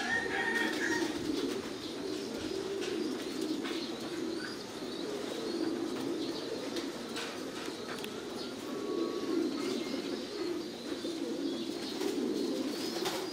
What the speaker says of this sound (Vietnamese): Đây những cái con chim bồ câu đang sinh trưởng và phát triển ở trong những chiếc lồng như này